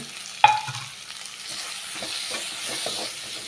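Drumstick leaves and grated coconut fry in a pan with a soft, steady sizzle, a sharp clatter of the spoon at the start, then quiet scraping stirs throughout.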